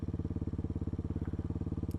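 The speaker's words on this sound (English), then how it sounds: "this thing's idling really high." A vehicle engine idles high with a fast, even, pulsing throb, steady and close from start to finish.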